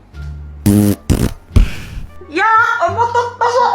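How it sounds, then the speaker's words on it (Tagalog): A loud, comedic fart sounds in several quick bursts, each a buzzy, flapping blast, followed by a voice talking over a low background hum. "Umutot pa sa off kadiri."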